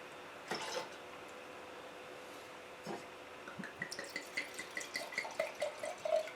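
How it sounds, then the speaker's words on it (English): Water from a tap splashes and drips while a wine glass is rinsed, with an early burst of running water followed by a run of light, rhythmic droplets and trickles, fairly quiet and close. "Give it a little rinse here."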